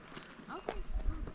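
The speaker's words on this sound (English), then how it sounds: "It's a herd of sheep blocking our path to the trail." A herd of sheep moves along a hiking trail in Big Bend National Park, hooves clopping and shuffling nearby at an uneven pace, with people talking quietly over the footsteps.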